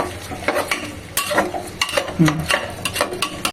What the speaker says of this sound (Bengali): তাও একটু নাড়াচাড়া করে নিচ্ছি মশলাগুলোকে